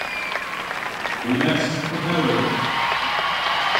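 Crowd applause in an arena at the 1995 figure skating World Championships, men's short program, a steady wash of clapping that swells partway through and stays loud to the end.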